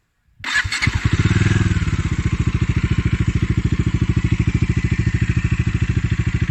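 A Bajaj Dominar 400 UG motorcycle engine cranks and catches in neutral, then settles into a steady, loud, rhythmic idle with a deep pulsing thump like an open exhaust that continues without change.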